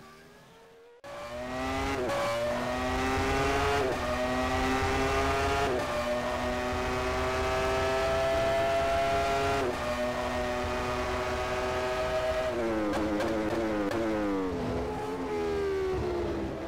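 High-pitched Ferrari F310 Formula One engine screaming continuously from onboard in a racing game at Sepang, rising through the revs with quick upshifts and downshifts over a full lap.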